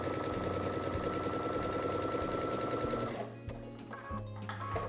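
A Baby Lock sewing machine stitching a half-square-triangle quilt unit with a fast, steady whirring run for about three seconds, then slowing to quieter, uneven mechanical clicks.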